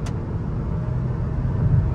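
A car accelerating hard on an open road, heard from inside as a steady, loud low engine drone and road rumble that holds evenly with a slight swell toward the end.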